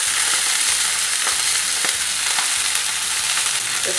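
Fish sizzling in ghee in a pan as the skin crisps, a loud, steady hiss of frying close up, with a few faint spatters and pops and no talking.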